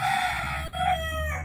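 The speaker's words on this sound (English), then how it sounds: "They can also hear your rooster" A rooster crows once, loud and near, a single drawn-out call with a short break in the middle, standing alone without talk.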